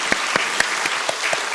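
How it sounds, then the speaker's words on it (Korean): A church congregation claps at the close of a service, a few distinct, fairly loud claps spaced out over under two seconds, more like a sparse handful of hands than a full ovation. "우리 이 감사와 기쁨의 마음을 담아서 박수로 서로 축복하며 나가겠습니다"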